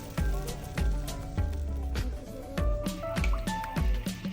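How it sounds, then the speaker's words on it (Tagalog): Water poured into a cooking pot of native chicken for tinola soup, splashing and dripping in uneven bursts with low thuds, close by and without talk. "At pagkatapos ay ilagyan na natin ng tubig na magsisilbing sabaw nito."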